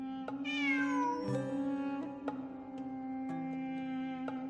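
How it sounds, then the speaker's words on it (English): A cat in Genshin Impact meows in a high, sliding call near the start, followed by a few shorter, softer mews over a steady, droning game music bed. "It really is a cat."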